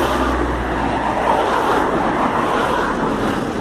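Cars pass on a road as a continuous loud whoosh of traffic and tire roar, steady and broadband, with no voices.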